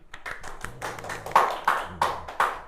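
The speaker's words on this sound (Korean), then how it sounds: "박수!" A short burst of clapping from a lecture-hall audience during a high school chemistry class, several sharp uneven claps over a few seconds against a hum of room noise.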